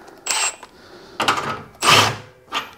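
An impact driver runs screws down on a modified Harbor Freight 30-inch sheet metal brake in four short, loud mechanical bursts with brief pauses between them, and no talking.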